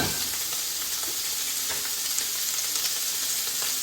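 Steady, close sizzle of food frying in butter in a pan, continuous bright crackle with tiny pops throughout and no talking.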